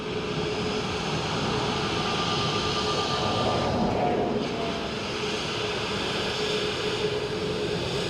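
An Airbus A320neo jet airliner at Dublin Airport gives a steady, continuous roar of engine noise that holds at a moderate level throughout, with no talk over it.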